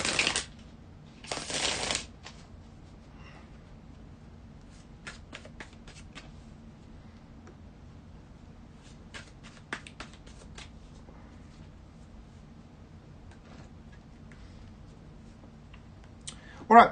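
A deck of tarot cards is riffled briefly at the start, followed by a long quiet stretch with scattered faint clicks and soft handling sounds.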